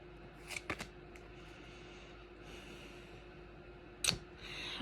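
Tarot cards riffled in a few quick, soft bursts near the start and again around four seconds, close and fairly quiet over a faint room hum.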